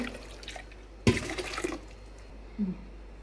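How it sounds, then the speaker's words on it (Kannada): A brief gush of water splashes from a tap for about half a second, then quiet dripping follows, close by. "ನೀರು ಎತ್ತು ಬೋಡಾತ ಪಾಡೋನ್ಲೆ"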